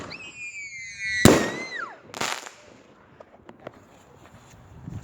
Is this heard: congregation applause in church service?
no